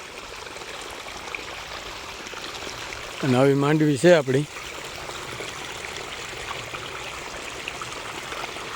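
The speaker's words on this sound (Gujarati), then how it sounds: "હજી તો આજે આપણે ચાલુ જ કર્યું છે પાણી" Irrigation water flowing into a groundnut field: a soft, constant trickling wash in the background, with a person speaking briefly over it partway through.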